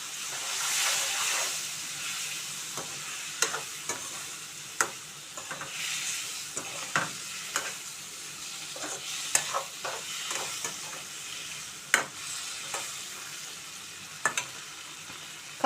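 Ripe tomato pieces sizzling in a pan with okra for a Telugu curry, a steady hiss of frying broken by frequent sharp pops and clicks of stirring, close and alone.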